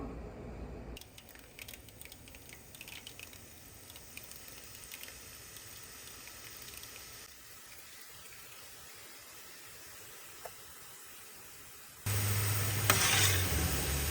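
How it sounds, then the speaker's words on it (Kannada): Sweet batter dropped through a sieve into hot oil for a festival sweet sizzles and bubbles at a steady low level, with a louder burst of frying and clatter near the end. "ಇವಾಗ ಎಣ್ಣೆ ಚೆನ್ನಾಗಿ ಕಾದಿದೆ ನಾನು ಇದರಲ್ಲಿ ಹಾಕ್ಕೊತಿದ್ದೀನಿ ಜಾಲರಿಯಲ್ಲಿ ಸ್ವಲ್ಪ ಸ್ವಲ್ಪನೇ ಹಾಕ್ಕೊಬೇಕು"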